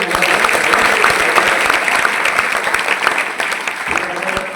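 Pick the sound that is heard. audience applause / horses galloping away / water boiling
audience applause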